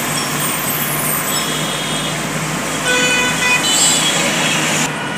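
Highway traffic jam on the Pune–Bangalore highway with big overloaded trucks and cars: a constant dense rumble of idling and creeping heavy vehicles, with horn toots sounding near the middle and a cluster of honks toward the end.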